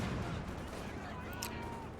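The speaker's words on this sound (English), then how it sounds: "Giving him some off-map artillery barrage." Off-map artillery barrage in Company of Heroes 2, a steady dense rumble of distant shelling and blasts running throughout, with game voices underneath.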